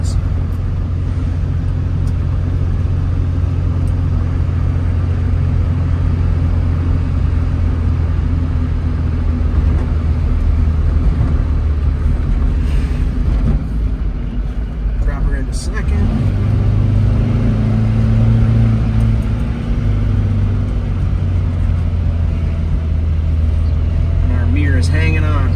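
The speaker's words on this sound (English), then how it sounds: "Super fun driving experience with these little Alfas." A 1967 Alfa Romeo Giulia GT Veloce driving, heard from inside the car as a steady low engine drone with road rumble, its pitch shifting slightly partway through, while a voice talks over it.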